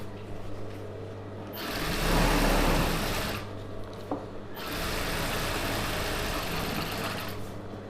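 An Usha sewing machine runs an edge seam on a Patiala pant in two long whirring bursts, the first brief and loud, the second longer and steady, separated by a short pause.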